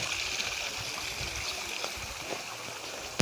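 Water running steadily from an opened tap in a village in India's Barot Valley, Himachal, a continuous close hiss and trickle with no talk over it.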